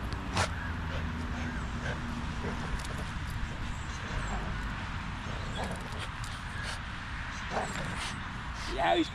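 Dog barking, yipping and whimpering in short bursts, fairly faint and distant, over constant background noise during a training session with a dog-aggressive pit bull.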